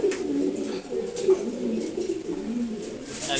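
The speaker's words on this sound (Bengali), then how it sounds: "এটা ব্লুবার রেসিং নর কবুতর।" A blue bar racing cock pigeon and its loft mates coo steadily, low throaty murmurs rolling continuously and close by, with no pause across the whole stretch.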